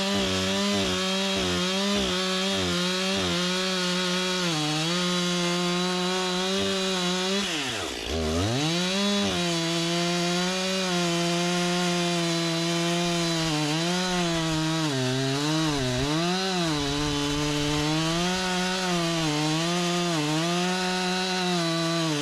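A Stihl MS261 chainsaw trims knots and bumps off the top of a log, its loud close whine holding steady with a sharp dip and recovery midway and several smaller rev swells.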